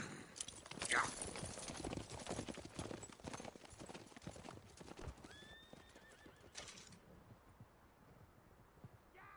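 Horses gallop in the Red Dead Redemption 2 video game, with rapid clip-clop hoofbeats running continuously and a horse's whinny near the start, over a faint rustling background.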